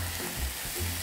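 Vegetables go into a hot frying pan of diluted sauce for a white Nagasaki-style champon stew. A steady, close hiss and sizzle fills the whole brief moment, with no voices.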